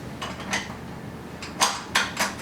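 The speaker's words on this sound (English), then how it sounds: "then I'm going to switch to the dough hook. Place that hook attachment." A dough hook attachment being fitted onto a stand mixer while making sourdough raisin bread: a few sharp metallic clinks and clanks, spaced irregularly and close by, with no talking.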